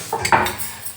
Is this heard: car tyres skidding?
no